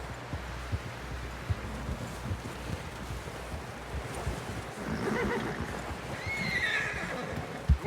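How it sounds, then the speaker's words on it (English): In Red Dead Redemption 2, a horse snorts and whinnies amid wind noise, with soft hoof movements and a louder neigh near the end. "Someone help John down off this horse"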